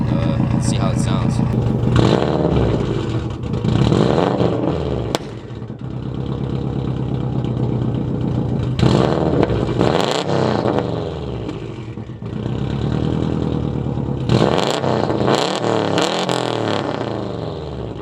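A loud, throaty straight-piped JDM car engine revs hard several times in bursts, rising and falling, with a deep rumble idling between the revs.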